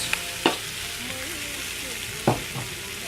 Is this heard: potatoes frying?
yes